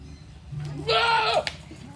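A goat bleats once, loud and close, during feeding at a farm, a wavering cry of about half a second amid quiet background murmur.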